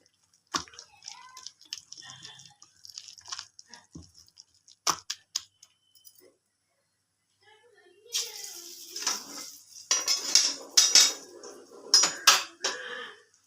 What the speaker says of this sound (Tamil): கட் பண்ண வெங்காயத்தை அதில் போட்டு நல்லா ஒன்றா மிக்ஸ் பண்ணிவிட்டு